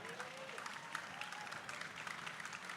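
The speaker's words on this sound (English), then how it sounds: "big round of applause for the competitors before they head out" A crowd at a 10K running race start applauds the competitors, a soft, distant wash of clapping and cheering that holds steady throughout.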